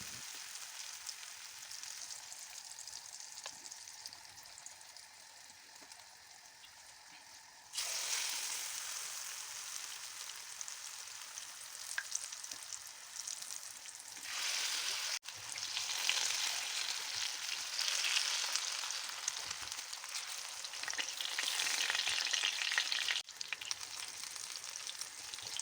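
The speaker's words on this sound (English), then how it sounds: "fry the fish fillets on medium heat until crisp." Fish fillets deep-frying in oil until crisp give a continuous hissing sizzle, quieter at first and then jumping louder partway through as frying intensifies, with no talk.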